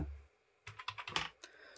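A short captcha code is typed on a computer keyboard, a brief run of five or six close, quiet key taps followed by one final tap, with no talking.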